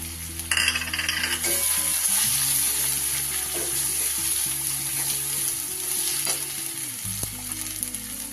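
Water used to wash sesame is poured into a hot cooking pan of spiced potato and chhana bora curry, setting off a loud, steady sizzle and bubbling that lasts throughout.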